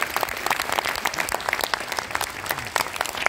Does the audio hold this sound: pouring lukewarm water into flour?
no